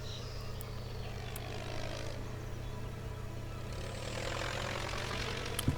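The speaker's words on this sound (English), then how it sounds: "Plane." A propeller airplane passes overhead on a tropical island, a steady low engine drone with a broad swell that builds toward the end, heard alone without talk.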